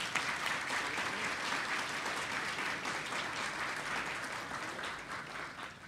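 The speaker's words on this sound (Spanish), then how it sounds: "Nos merecemos otro fuerte aplauso." Audience applause at a national ceremony honouring outstanding teachers, a continuous broad roar of clapping from a large crowd, fairly distant and steady for the whole stretch with no speech on top.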